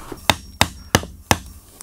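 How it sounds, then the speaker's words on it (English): Hammer nailing tongue and groove beetle kill pine boards: four sharp, close wooden whacks at an even pace, followed by a faint light tap, with no talking. "I need my hammer."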